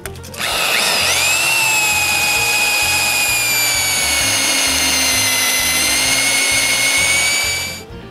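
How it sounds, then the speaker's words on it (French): A power drill bores a series of holes through a 6x6 timber post for a mortise, one continuous loud whining run that spins up quickly, holds steady for several seconds and then winds down. "je fais une série de trous entre les marques"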